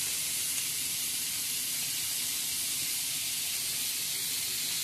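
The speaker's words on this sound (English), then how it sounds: "Start slinging in the bacon" Bacon and sausage frying together in a single pan for a campervan fry-up, a faint, even sizzling hiss that holds steady throughout, with no voices.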